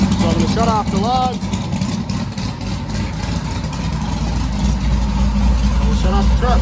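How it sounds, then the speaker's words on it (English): A truck engine with a tuned cam idles steadily, a low rumble that runs under a man's speech with a slightly uneven, loping beat. "I'm going to shut off the truck. So it is running really, really well"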